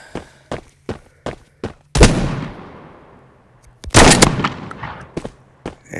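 Video game gunfire cracks out in a rapid string of sharp single shots, then two heavy booming bursts with long ringing decay, followed by more quick shots; loud and close with no talking.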